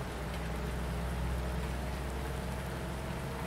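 Steady rain falls across a Farming Simulator 19 farm, a constant broadband hiss of drops with a low rumble underneath, even and unbroken throughout, with no voices.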